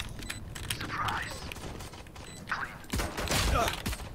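Gunfire in the video game Valorant, with bursts of rapid shots and mechanical clatter under continuous whispered and spoken chatter from players, growing denser toward the end.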